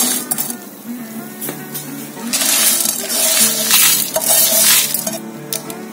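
Fried okra, lightly browned, scraped from a pan into a bowl in a home kitchen, giving close metallic clinks and scraping stirs over a faint lingering sizzle, with irregular taps throughout.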